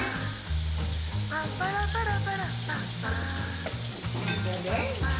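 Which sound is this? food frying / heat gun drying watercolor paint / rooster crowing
food frying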